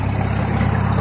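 A 1953 Super H tractor engine, carburetor newly fitted with its gasket, idling in a loud, steady low rumble, close by and alone.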